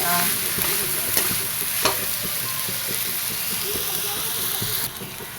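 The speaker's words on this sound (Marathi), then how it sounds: "हलवून घेते असं मसाला लागेपर्यंत" Spoon stirring drumstick (moringa pod) curry with ground masala in a hot frying pan: steady sizzling and hissing with repeated scraping strokes, close and continuous.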